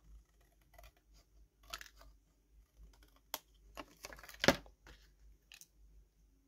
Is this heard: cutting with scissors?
yes